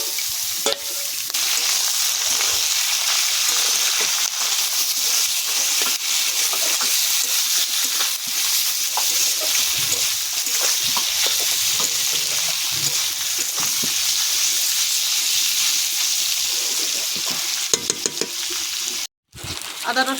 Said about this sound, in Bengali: এই পেঁয়াজের সঙ্গে একটু ভেজে নেব, বটগুলো একটু ভেজে নেব।